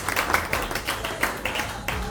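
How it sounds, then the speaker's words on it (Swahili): A church congregation claps together for Jesus, with a quick, steady run of crisp handclaps close by that fill the whole moment. "Tumchapie Yesu makofi kwa mashina ya Yesu Kristo."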